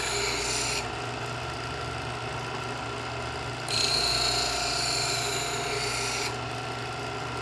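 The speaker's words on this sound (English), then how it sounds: "When the knife hits the wheels, you want to start the sharpening process." A Smith's Adjustable Edge Pro electric knife sharpener grinds a knife blade against its spinning wheels, a steady close rasping hum that brightens as passes change, with no voices.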